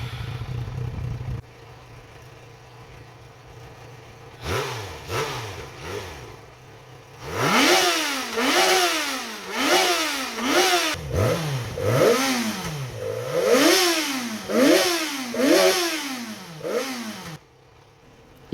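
A Yamaha XJ6 motorcycle, warmed up and running after fairing installation, idles with a low rumble, then is revved repeatedly in quick rising and falling bursts, close and loud.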